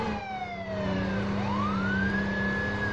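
Emergency vehicle siren in the video game Emergency Response Liberty County, a loud, steady wailing tone sweeping down then rising again, with a low engine drone underneath and no talk.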